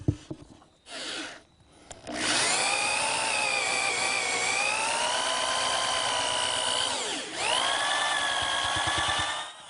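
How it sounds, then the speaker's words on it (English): A power drill whines steadily as it bores mortises into wood, its pitch dipping briefly under load before rising again, after a few short start-up bursts. "When you drill the mortises"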